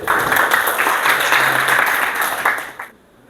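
A classroom group gives a short burst of brisk applause, dense clapping that swells and then stops abruptly near the end.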